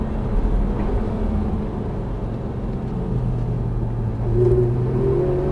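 Porsche 991 GT3 RS on the circuit at Alès, its engine droning steadily near and loud with a low rumbling tone that swells slightly toward the end under acceleration.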